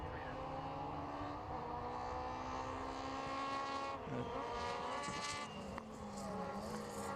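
Race cars in the 2022 CSP Championship at Oulton Park circuit drone past with a continuous layered engine whine that rises and shifts, heard from a distance over the whole stretch.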